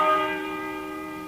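A single deep bell in a radio drama is struck once, sounding loud and resonant, then its rich ringing tone slowly fades and hums away.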